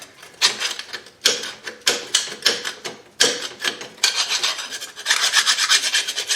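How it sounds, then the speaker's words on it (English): A metal file scrapes corrosion off the caliper tabs during a rear brake job on a 2005 Buick Rendezvous: loud, close, rasping strokes in a steady back-and-forth rhythm that speeds into continuous scraping near the end, with no talking. "use a file to kind of get the corrosion off of here, clean it up"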